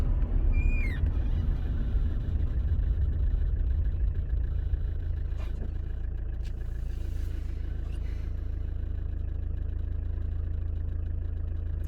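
A car driving at night gives a steady, close engine rumble with a constant low drone and a faint road hum, continuous for the whole stretch with no talking.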